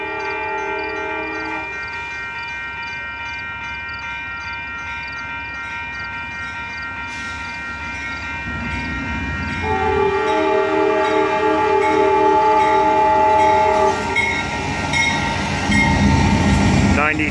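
Amtrak Coast Starlight passenger train led by locomotive 93 rolling slowly through West Sacramento, a sustained multi-tone horn sounding over the rumble of the passing train, loud and close.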